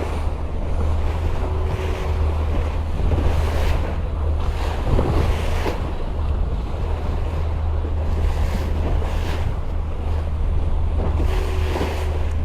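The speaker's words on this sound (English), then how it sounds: "As we're getting closer to the open ocean, we're getting a little bit more wave action." Ocean waves and wind on a sailboat heading toward open sea in fog, steady blustery wind noise with repeated washes of surf and hull splashes throughout.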